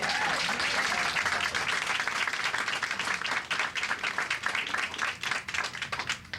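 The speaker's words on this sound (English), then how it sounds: "can we give him a round of applause?" An audience gives a sustained round of applause for a mural artist, dense and fairly loud at first, then thinning into scattered, uneven claps toward the end.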